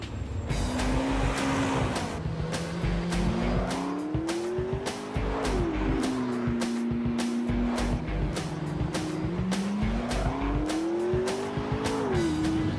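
A McLaren MP4-12C sports car drives hard, its engine revving up and down in repeated rising sweeps, with bursts of tire squeal and sharp clicks throughout, loud and close.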